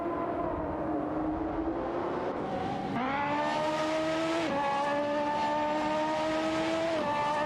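Simulated race car engines from an AI-driven racing video game whine steadily, with several rising and falling harmonic pitch sweeps as cars shift and pass, continuous and loud with no talk.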